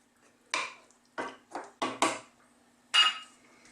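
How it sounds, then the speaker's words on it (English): A metal lid goes back onto a pot of Chinese lamb and mushroom stew in a kitchen, with a handful of close, sharp clanks and clinks spaced over a few seconds, then quiet. "The lid's going to go back on"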